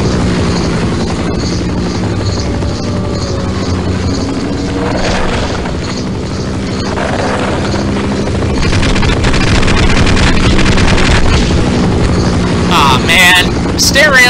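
A helicopter in Half-Life drones steadily with a low, rumbling engine and rotor noise, loud and continuous, with wind-like noise and occasional bursts layered on top.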